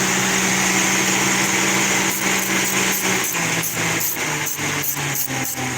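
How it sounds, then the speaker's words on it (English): Oliver tractor engine running at a tractor show, a loud, steady high-revving drone with a rapid rhythmic knocking pulse emerging partway through, close by. "You get to listen to Mike's tractor"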